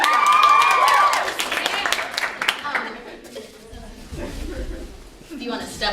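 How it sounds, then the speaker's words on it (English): An audience claps and cheers for a few seconds, loud at first and then fading, with a voice speaking over the end. "Give her a round of applause."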